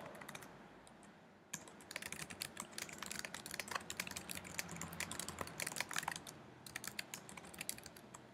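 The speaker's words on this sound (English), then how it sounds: "you can type blah blah blah right here" Typing on a computer keyboard: a close, quiet stream of quick irregular key clicks and taps, steady for several seconds, with no voices.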